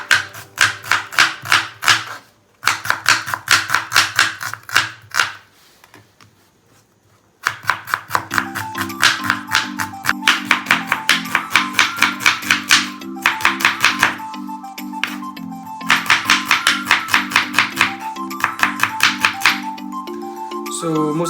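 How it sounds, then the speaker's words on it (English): A knife slices an onion on a board for a home-made Kolkata mutton biryani: quick, rhythmic chops in bursts separated by short pauses, heard up close over background music. "So my preference would be just cut the onion like this."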